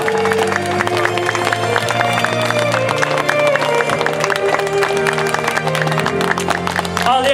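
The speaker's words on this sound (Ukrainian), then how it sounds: "Ваші оплески, друзі, і гірко наречених!" Wedding guests clap and cheer for the bride and groom at a ceremony, a busy stretch of applause blended with steady music playing throughout.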